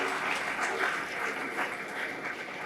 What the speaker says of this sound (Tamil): தாராளமா இதுக்கெல்லாம் கைதட்டலாம்.